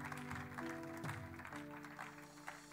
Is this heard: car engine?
no